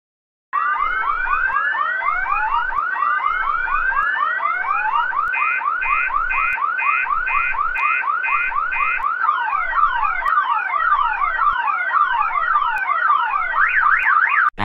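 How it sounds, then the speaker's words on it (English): A loud electronic school fire alarm in an animation cycles through warbling, beeping and sweeping tones continuously, with no voices. "I'm going to pull the fire alarm as a prank."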